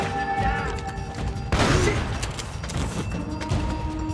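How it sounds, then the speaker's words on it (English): Machine gun turret fire in Uncharted: Drake's Fortune: a loud, close burst of rapid gunfire erupts midway through, over a busy backdrop of game noise and rumble. "This is the same turret, literally, that was shooting me before."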